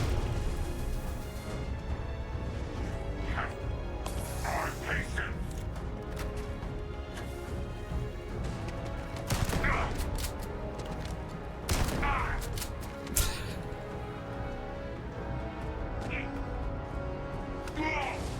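Rapid bursts of automatic gunfire in the space shooter game Starfield, with loud clustered volleys and sharp impacts over a continuous dense game soundscape, while a player talks intermittently.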